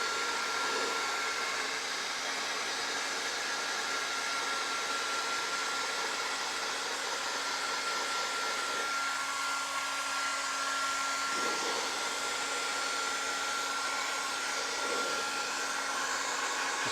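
A heat gun blows steadily while warming aluminium wrap nosing on a stair during an LVT fitting, a continuous close whooshing hum with no pauses and no voices.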